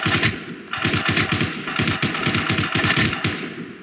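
Rapid automatic gunfire from the video game War Inc Battlezone, loud bursts of close, evenly spaced shots with only a brief gap before resuming.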